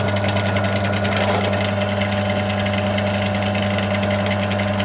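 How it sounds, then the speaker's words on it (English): A steady mechanical whir of a drill boring through one-inch aluminium, constant and fairly loud, with a faint rhythmic grinding. "I'm drilling 4 holes through this 1 inch of aluminium"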